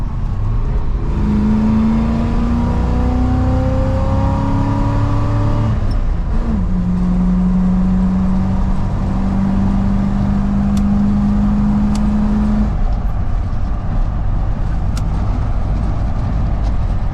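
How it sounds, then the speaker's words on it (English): A Chevrolet Suburban Squarebody with an NV4500 manual gearbox accelerates onto a freeway, its engine rising in pitch, dropping briefly at the shift into third, then climbing steadily again under loud constant road and wind noise. "So, getting onto the freeway here. Let's drop her into third."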